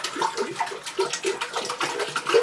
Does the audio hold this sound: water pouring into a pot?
yes